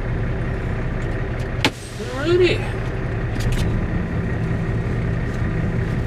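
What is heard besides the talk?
semi truck backing up into parking spot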